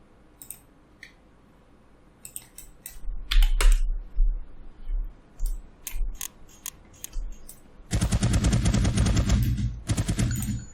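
Weapon fire in an Unreal game using the Advanced Locomotion System, with sharp, close single shots scattered over several seconds before a dense, rapid automatic burst of clattering fire.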